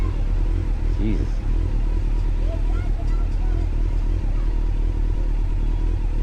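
A motorcycle ridden slowly on a dark evening ride, its engine a steady low rumble throughout with faint clatter and occasional light revving, while a rider's voice speaks briefly over it.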